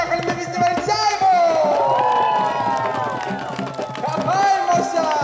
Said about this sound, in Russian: Аплодисменты танцорам! Аплодисменты зрителям!